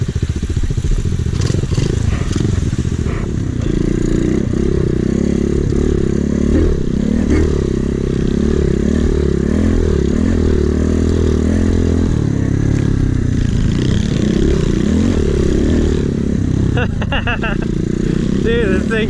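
An Amazon-bought dirt bike engine runs steadily and loudly throughout, a constant close rumble with some clattering, ridden through deep sand or mud.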